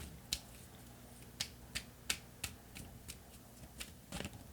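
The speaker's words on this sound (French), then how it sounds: "je vais tirer une carte ici pour un supplément d'information" Tarot cards shuffled and drawn by hand, a series of crisp, separate flicks and snaps at irregular intervals over a quiet room tone.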